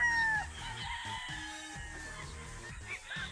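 Paul's Park Gray gamefowl roosters on a game farm, with one rooster crowing briefly at the start and then soft clucking and scattered bird calls, fairly faint and distant.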